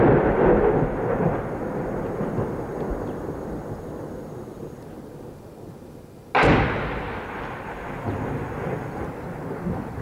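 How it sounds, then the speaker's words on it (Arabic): Artillery shell lands in a residential district of besieged Homs during heavy shelling, a sudden loud blast at about six seconds over a constant roar of distant rumbling, with the echo trailing off afterward. "قصف عنيف يستهدف حي القرابيس"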